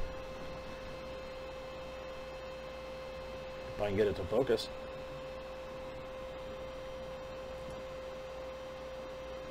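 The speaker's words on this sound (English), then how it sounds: "I also apologize for the sound of the air conditioner in the background." A steady low electrical hum runs throughout, an air conditioner droning in the background, interrupted briefly by someone speaking midway.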